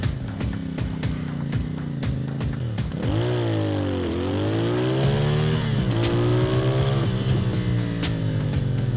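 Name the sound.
CFMoto motorcycle engine revving, mic'd on the bike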